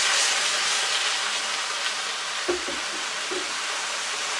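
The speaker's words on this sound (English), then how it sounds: "you want to listen to the sizzle" Carrots and other vegetables sizzle steadily in a hot pan for rice and peas, a continuous close frying hiss with a couple of soft utensil knocks partway through, no voices.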